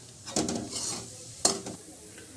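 A spoonful of cumin seeds sizzles in hot oil with a pinch of asafoetida for a whole masoor dal tadka. The steady frying hiss sits under sharp clinks of a spoon stirring against the pan.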